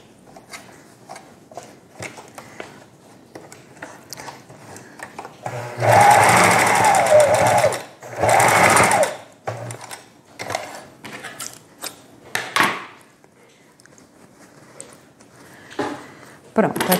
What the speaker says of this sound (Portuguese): aqui eu já costurei o elástico, prendendo o elástico dos dois lados